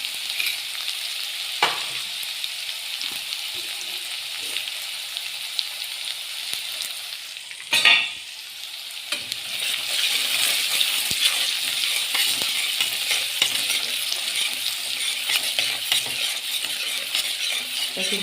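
Onions sautéing in a pan until brown, a continuous close hiss of frying oil with occasional spatula scrapes and one sharp metallic clink midway, the sizzle growing slightly louder afterward, no talking.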